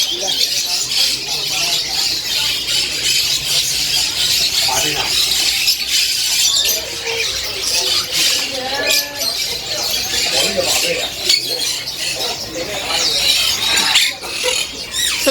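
Many birds at a bird shop chirp and squawk noisily together. The chatter is constant and close, with a person talking over it.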